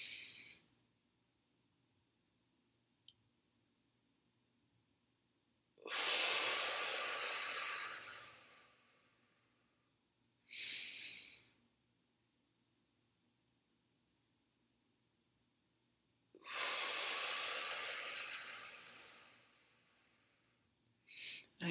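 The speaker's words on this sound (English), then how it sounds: "Then start the breath again." Slow, deep breaths during guided meditation, each a long soft airy rush lasting a few seconds and separated by long silences, close and quiet with no talking.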